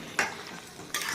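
Duck meat being sautéed and stirred in a pan, with two loud bursts of frying sizzle and stirring scrapes separated by a quieter simmering stretch; no talking.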